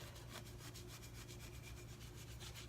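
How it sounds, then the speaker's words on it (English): A clump of wax is rubbed back and forth onto chalk-painted wooden furniture, making a steady rhythmic scrubbing rasp that sounds close and quiet, with no voices. "grab a clump of wax, and you're just going to rub it onto the piece."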